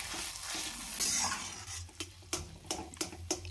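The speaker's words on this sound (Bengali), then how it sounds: "দেখুন মশলার সাথে আলু খুব ভালো করে এভাবে মিশিয়ে নিতে হবে।" Mashed potato mixed with spices is stirred in a frying pan, with a soft scraping sizzle broken by a run of sharp, fairly regular spatula knocks against the pan.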